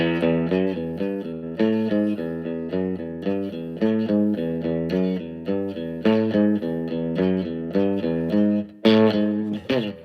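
A distorted electric guitar plays a theme riff, repeating low in steady, driving eighth notes, loud and continuous, with a brief higher flourish near the end.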